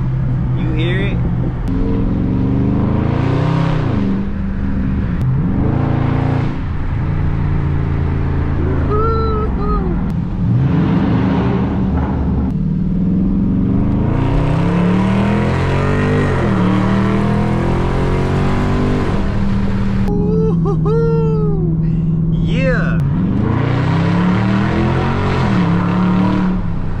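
A 2020 Dodge Charger Scat Pack with its muffler deleted revs hard again and again up close, its loud, raw exhaust rising and falling in a string of bursts with brief lulls between them.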